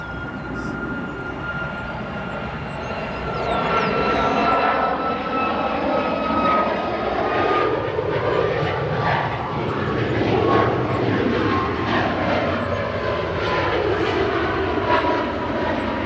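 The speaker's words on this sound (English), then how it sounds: "We'll go to a departure, looks to be a United 737 MAX." A United Boeing 737 MAX departing O'Hare, a loud sustained jet engine roar with whining tones that rises and swells as the aircraft passes, steady and unbroken with no speech.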